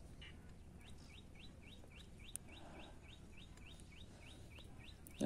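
Faint, rhythmic chirping calls repeat steadily over a low background rumble, like thousands of birds, including bar-headed geese, calling at a distance at Magadi Bird Sanctuary in Karnataka.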